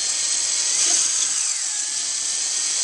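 A high-speed drill cutting a small notch into glass under water, a steady high-pitched whine with a slight pitch bend partway through, close and continuous, no voices.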